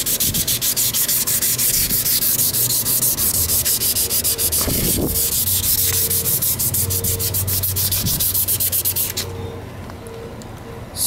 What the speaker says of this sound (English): This 1000 sandpaper, take it right off without scratching the aluminum on the muffler.